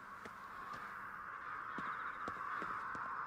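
Crows cawing on shrine grounds in the video game Ghostwire: Tokyo, several separate caws spaced irregularly over a steady, low ambient hum.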